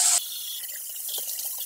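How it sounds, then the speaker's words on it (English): Hot water runs from a tap into a sink, a loud gush at first that quickly drops to a steady, softer trickle and splash. "Run hot water to clean out the pipes from any Borax you may have spilled."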